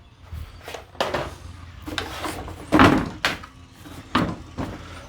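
A four-wheeler's plastic battery box lid being pushed shut over the battery, giving several dull knocks and thunks at a moderate distance, with one louder snap near the middle and no talking.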